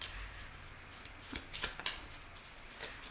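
Tarot cards riffle and slide in a few quick, crisp bursts, close up and fairly quiet, with no talking.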